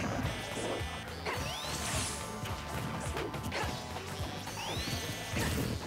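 Down smash attacks in a Super Smash Bros tournament match crash in loud, sharp hits over a dense wash of game effects, with several impacts and swishes spread across the stretch.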